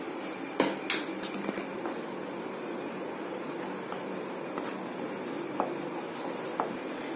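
Metal spoon clinking against a pot while boiling milk curdled with a few drops of lemon is stirred for paneer; sparse, sharp scrapes and taps come and go over a steady low hiss.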